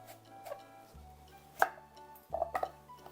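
A kitchen knife splits a mature, old pumpkin in half: a few sharp, close cracks and thuds at irregular moments over a low steady hum, with no talking.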